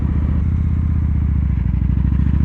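A 2016 Victory Judge cruiser's big V-twin idles through a performance exhaust, giving a loud, steady, close rumble with a rapid lumpy pulse and no voices.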